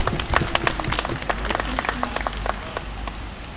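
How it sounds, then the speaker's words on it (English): Applause from an audience at a fur seal training show, a dense patter of many hands clapping steadily throughout, fairly close and loud with some louder individual claps. "Round of applause."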